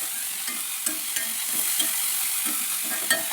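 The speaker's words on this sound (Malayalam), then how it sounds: "ഓക്കെ, നമുക്കിതൊന്ന് ഇളക്കി കൊടുക്കാം. ഇത് വെറും സിമ്പിൾ മുട്ടക്കറിയാണല്ലേ." A simple egg curry bubbles and sizzles in a pan while being stirred, with a steady frying hiss and soft, regular scraping strokes of a spoon.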